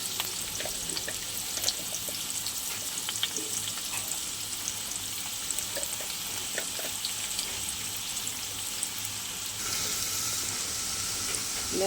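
Sliced potatoes and onions fry in oil in a pan, giving a continuous soft sizzle dotted with small crackles and pops, fairly quiet and close, with no talking.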